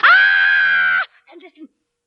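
A woman, an actress performing a Samuel Beckett piece, lets out a single loud, sustained scream lasting about a second, then it breaks off into faint breathy sounds.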